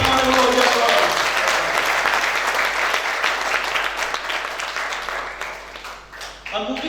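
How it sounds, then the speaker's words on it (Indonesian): A church congregation claps together in sustained, dense applause that fills the room and slowly tapers, with a voice briefly speaking over it near the end. "Give yourself a big hand, come on."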